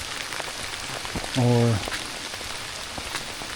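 Steady rain patters on the ground and foliage during an evening hike along the Cahaba River Riverwalk, with a short spoken word partway through.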